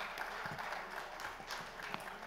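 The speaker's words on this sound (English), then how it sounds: "Please put your hands together." An audience claps in steady, dense applause at the Images South India Retail Awards 2017 ceremony in Bengaluru. The clapping is fairly soft and continuous, with no voices over it.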